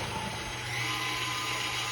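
A stand mixer with a dough hook works yeast dough for old-school butter dinner rolls, giving a loud, constant motor whir close by with a steady low hum beneath it, and no voices.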